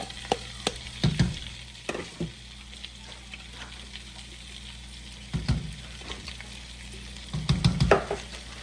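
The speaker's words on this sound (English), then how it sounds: "I'm going to add my garlic to this. I'm going to put that in there. We're going to have that saute up some." Onion, carrot, celery, peppers and garlic sauté in a pot for jambalaya, a faint, steady sizzle with a few scattered stirring scrapes and clatters, with louder bursts as more garlic goes in.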